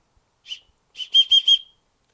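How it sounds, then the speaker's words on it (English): A shrill emergency whistle from a portable folding shovel kit blown in short blasts: one chirp, a pause, then a quick run of three or four sharp toots, close and loud. "emergency whistle"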